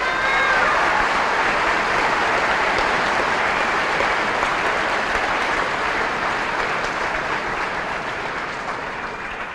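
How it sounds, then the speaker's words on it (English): A graduation audience applauds the band and choir, a dense, steady wash of clapping from a large crowd that holds for the whole stretch and tapers slightly at the end. "Please give them a round of applause."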